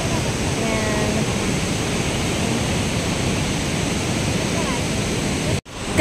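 Rushing water pours steadily at Shenxian valley waterfall in Miaoli, Taiwan, a close, loud and unbroken roar that cuts out abruptly for a moment just before the end.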